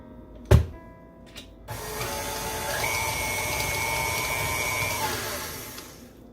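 An electric mixer runs at a higher speed while mixing cookie dough for bat sandwich cookies, with a steady whirring motor hum that starts after a knock and a click and carries on evenly before easing near the end.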